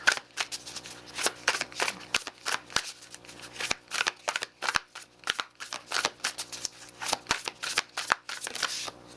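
Tarot cards being shuffled by hand, a rapid run of close, crisp riffling bursts and soft slaps in an uneven rhythm, with no talking over it.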